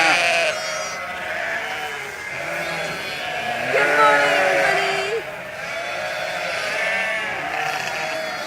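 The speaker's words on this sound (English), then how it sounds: "we are just feeding the sheep this morning, hence the noise" Sheep bleat repeatedly during morning feeding on a farm, a chorus of overlapping calls with one louder, drawn-out bleat in the middle, close and continuous.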